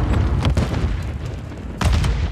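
A grenade going off in Call of Duty MW3, a heavy booming blast with low rumble, followed by a second thudding burst, loud and close.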